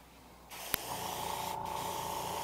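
Airbrush spraying green paint onto a fishing lure, a steady close hiss that starts abruptly after a brief click and continues evenly, with a short break partway through before resuming.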